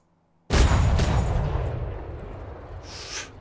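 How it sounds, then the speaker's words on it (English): A loud gunfire volley in the video game ATLAS bursts out suddenly as a massed boom, then rolls and decays over a few seconds with a second fainter rumble near the end. "That's a pretty good volley right there."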